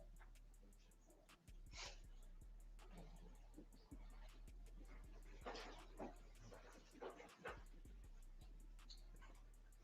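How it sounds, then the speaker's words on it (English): A dog playing in the snow, yipping, whimpering and barking in scattered bursts over a steady background hum, with muffled voices talking faintly underneath. "Oh no, that's a dog."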